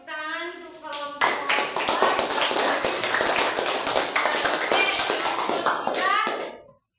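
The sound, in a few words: classroom children clapping for a group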